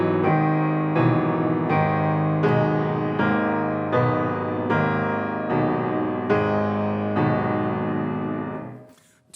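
Solo piano portraying an ox hauling a cart full of rocks, weighty low chords struck in a slow, even march of about eight beats before the final chord fades away.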